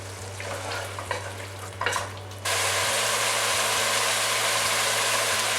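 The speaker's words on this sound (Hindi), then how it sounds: "अब मैं चिकन को भून रहा हूँ" Chicken frying with ground spices, cinnamon, cloves and cumin in a pan, starting with stirring clatter over a crackle, then a loud, steady, close sizzle that fills the rest.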